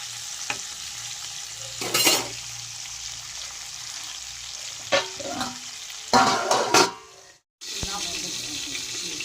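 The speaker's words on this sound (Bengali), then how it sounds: "আর একদিক আমি ভেজে নেব" Aar catfish sizzles steadily frying in hot oil, broken by a few clattering bursts of utensils scraping and turning the pieces, with one brief quiet gap.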